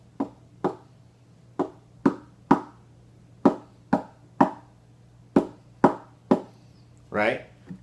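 Hands tap out the stomp-stomp-clap beat of a song: sharp, close percussive hits in pairs followed by a single accent, repeating over a low steady hum, with a brief vocal sound at the end.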